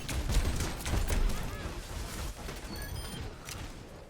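Gunfire in an Overwatch match aimed at a turret: a rapid flurry of shots and impacts, fairly quiet and muffled, sits over a busy game soundscape.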